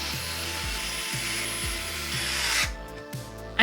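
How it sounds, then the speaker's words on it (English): Screws driven by hand to fix two RGB fans onto a PC radiator during a white NZXT H5 Flow build, giving repeated close scraping, ratcheting strokes at a steady rhythm before ending in quieter handling. "we just need to take the 2 RGB fans and screw them into the radiator"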